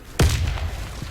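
A grenade blast in the shooter game Warface, a single sudden deep boom with a short rumbling tail, loud and close.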